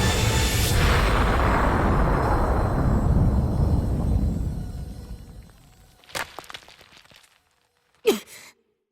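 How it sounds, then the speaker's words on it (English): A cartoon magic blast roars loud and long, then decays over several seconds into quiet, followed by a few faint whooshing bursts of negative energy magic. "there is still a faint sound of someone using that exact negative energy magic right after the blast"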